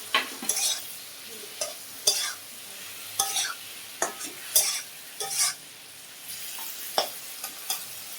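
Paneer fries in a pan with red amaranth greens, a continuous sizzle broken by repeated scraping strokes of a spatula stirring against the metal, close and fairly loud, with no voices.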